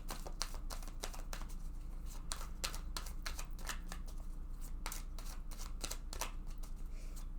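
A tarot card drawn from a deck, heard as a run of quick, close, soft riffling and flicking card sounds in irregular bursts, fairly quiet, with no speech over them.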